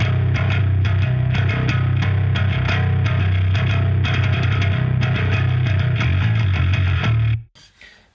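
Bass guitar through a Darkglass Alpha Omega Ultra with cabinet simulation, a loud, thick, distorted riff with rhythmic picked notes played steadily before cutting off near the end.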